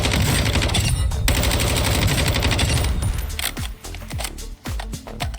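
Lockman 556 rifle firing in Warzone 2.0, a dense rapid burst of gunfire for about three seconds, then a handful of separate sharp shots with short gaps between them, loud and close.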